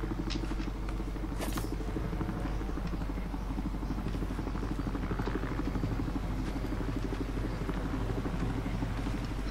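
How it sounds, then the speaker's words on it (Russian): Two helicopters fly in the video game Battlefield Hardline, a steady rapid rotor chop and engine rumble that stays loud and continuous throughout. "Бля, два вертолета, это пиздец"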